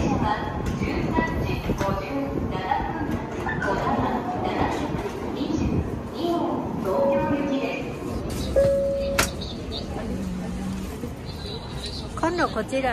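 Steady rumble of a Shinkansen bullet train ride in Japan, with muffled passenger chatter and a few brief chime-like tones throughout.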